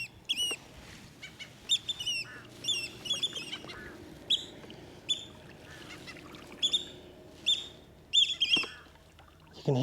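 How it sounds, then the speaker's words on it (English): Oystercatchers near their nest on an island call out in repeated shrill, piping squawks, several birds overlapping in bursts against a quiet outdoor background. "You can hear the oyster catchers."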